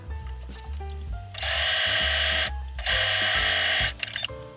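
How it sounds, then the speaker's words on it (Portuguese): A sewing machine stitches a zipper onto a pouch in two sustained whirring runs, with mechanical clicks and knocks before, between and after them, heard close and alone. "Então, eu vou costurar de um lado aqui e depois eu vou costurar do outro."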